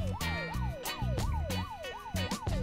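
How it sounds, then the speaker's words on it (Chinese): A video game ambulance siren in Unturned repeats a fast up-down wail about six times over a pulsing engine drone, steady and moderately loud. "救护车的声音是不是会引来僵尸？"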